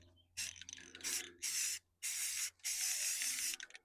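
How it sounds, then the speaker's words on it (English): Rust-Oleum exterior spray paint hissing from the can onto vinyl siding in four or five short close bursts of bright hiss, separated by brief pauses. "I like the Rust-Oleum brand, but you can use any exterior spray paint."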